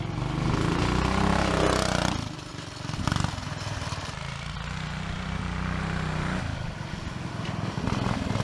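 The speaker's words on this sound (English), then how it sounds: "take the go-kart around the yard a couple times. You'll hear the exhaust." A 420cc stage 1 go-kart engine circling a yard, its exhaust buzzing loud and rough up close, dropping away briefly and then droning back at steady revs as the kart passes and returns.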